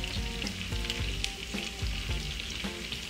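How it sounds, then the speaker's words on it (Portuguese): Onion and sweet paprika sauté in a pan, a close sizzling hiss punctuated by several rhythmic stirring scrapes over a few seconds, with no speech. "Vamos deixar refogar um pouquinho, 1 minutinho só, junto com a cebola aqui."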